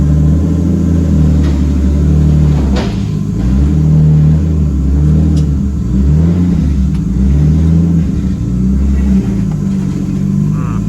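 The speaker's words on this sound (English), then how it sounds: "Surely Jason won't mind a cheeky drive" A Nissan R33 Skyline with its RB25DET engine drives and revs, a steady loud engine drone with rising and falling pitch through gear changes and throttle blips, continuous and close throughout.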